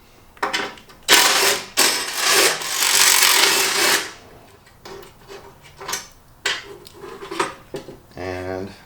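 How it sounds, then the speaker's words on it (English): T45 bolts are removed on a 2018 two-door Jeep JL Rubicon, with metallic tool clanks, a few seconds of harsh ratcheting or grinding, then scattered clicks and knocks close by. "you've got 5 different T45 bolts we need to take out"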